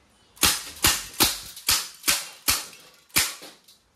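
CO2-powered blowback airgun rifle firing seven sharp shots in a steady rapid rhythm, each a crisp snapping crack with a short decaying tail, close and loud with no talking.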